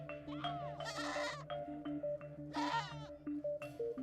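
Goats bleating in repeated wavering cries, fairly faint, against a steady tonal background hum on a livestock scene tied to food aid in Africa.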